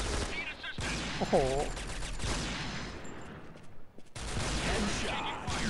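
Gunshots from a sniper rifle in the shooter game Point Blank Strike, several sharp bursts between stretches of game noise, with someone talking over them.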